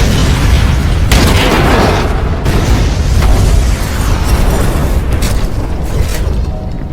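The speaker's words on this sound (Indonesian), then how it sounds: "Kang Daiho pun langsung melemparkan mercon yang sudah disiapkannya" Firecracker blast in an action film scene, a dense, loud booming roar with sharp bursts near the start and middle, sustained rumbling debris-like noise throughout.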